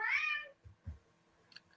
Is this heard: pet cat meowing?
yes